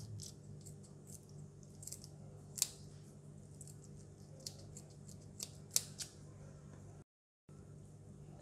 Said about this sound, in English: Use the sharp pointed scissors to cut the first shell, and continue to cut through down to the last block of the shell.